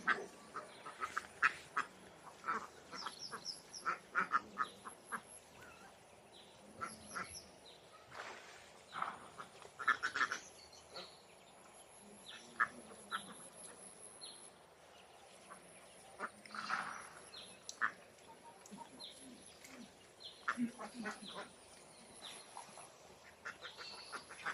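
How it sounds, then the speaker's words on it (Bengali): A flock of farm ducks quacking outdoors, repeated irregular quacks from several birds at moderate distance over a quiet background, no talk. "এই দেখেন, এগুলো হচ্ছে আমাদের হাঁস"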